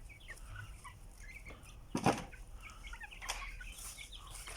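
Young roosters and hens on a Turkish backyard flock cluck in short scattered calls, with one louder burst near the middle standing out over the rest.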